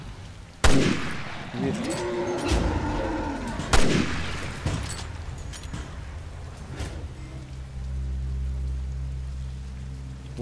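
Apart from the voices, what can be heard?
sniper rifle shots in Resident Evil: Revelations 2 video game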